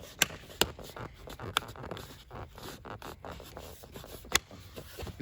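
Rubber edge trim being worked by hand into the frame of a Dodge Viper soft top, giving soft scraping and rubbing with several sharp, zipper-like snaps spread across the clip.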